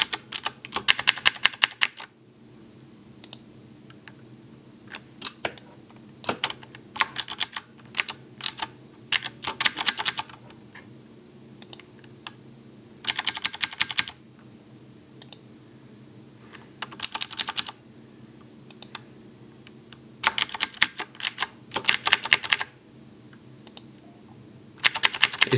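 A noisy mechanical computer keyboard clatters in rapid, close-up bursts of keystrokes separated by short quiet pauses, the clicking loud and crisp against a faint background hum, with no one speaking.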